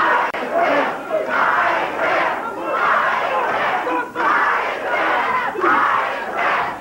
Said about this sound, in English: Crowd getting on Jimmy Hart.